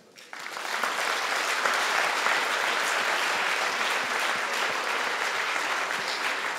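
Sustained audience applause for a nominated female cyclist at a sports awards ceremony, swelling quickly within the first second and holding steady, dense and loud, with no talk over it.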